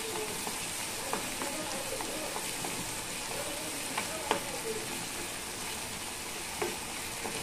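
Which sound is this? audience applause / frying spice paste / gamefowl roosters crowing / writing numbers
frying spice paste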